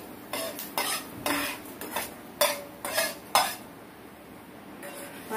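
A metal spoon stirs fenugreek seeds roasting dry in a pan, scraping and clinking in a steady run of sharp strokes over a faint sizzle, close up, then pausing briefly before one last scrape.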